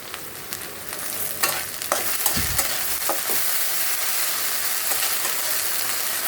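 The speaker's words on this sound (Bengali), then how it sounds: "এক পিঠ ভাজা হয়ে গেছে, উল্টে দিয়েছি, আর এক পিঠ ভাজা হতে থাক" Rohu fish fillets frying in hot oil in a pan with radish, a steady close sizzle with soft scraping and stirring clatter scattered throughout.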